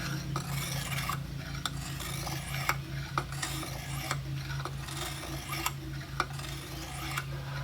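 A knife blade is worked across a sharpening stone in repeated rasping strokes, a quiet close scraping rhythm with small clicks marking each pass, over a low steady hum.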